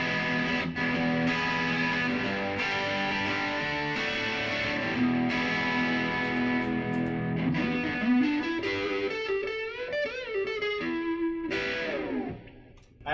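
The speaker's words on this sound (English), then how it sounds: "now this is the crunch channel with a little bit of reverb" An electric guitar plays through a Boss Katana amp's crunch channel, lightly distorted with a touch of reverb, chords ringing out and trailing into a sustained bend.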